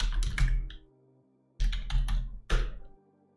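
Bursts of keystrokes on a computer keyboard, two quick flurries of close, crisp clicks separated by a brief pause, with no talking.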